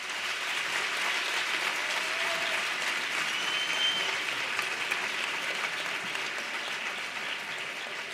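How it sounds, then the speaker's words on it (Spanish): Steady audience applause at a medical teaching welcome session, an even wash of many clapping hands sustained at moderate level throughout, with no talk over it. "Os pido un aplauso para los cuatro."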